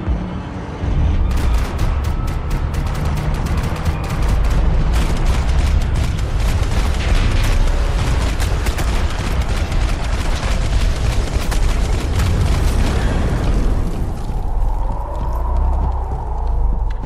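Dense, sustained video-game gunfire from Max Payne 3: rapid overlapping shots and booming bursts fill the scene continuously, loud and chaotic, then thin out near the end.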